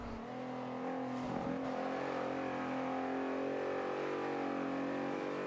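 Volkswagen Corrado VR6 engine in the Forza 5 racing game at the Nürburgring, revving steadily and loudly close up with a sustained harmonic drone, under no talk.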